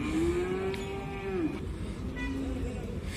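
Sheep at a busy livestock market give a long, drawn-out bleating call, followed by a second fainter call, over constant crowd and yard noise.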